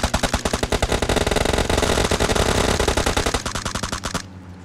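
Rapid automatic gunfire in PUBG Mobile, a long loud burst of closely spaced shots that slows to separate rounds and stops near the end, with no talking.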